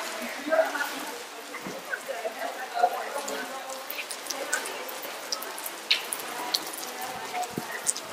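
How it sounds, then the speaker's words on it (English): Rain pours steadily at a castle, a dense patter of drops hitting surfaces nearby, with scattered sharper splashes throughout. "Pouring in the rain."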